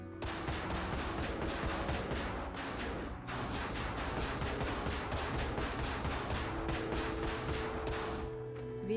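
Rapid, continuous bursts of gunfire in the video game Project Zomboid rattle on without pause, dense and mechanical, like automatic weapons firing in sustained volleys at zombies.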